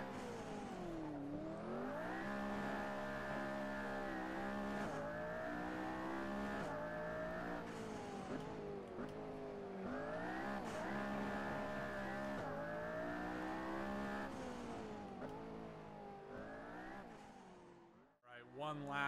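A McLaren P1 in the Assetto Corsa racing game, its engine revving hard and rising and falling through gear changes for most of the stretch, with tire noise, before dropping away near the end; a voice talks at times.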